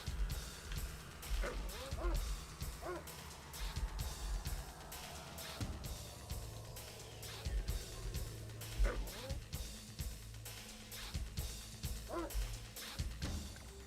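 Attack dogs in the real-time strategy game Command and Conquer Red Alert Remastered bark in short repeated yips during the Soviet campaign, scattered over game music and battle noise, faint and mid-distance.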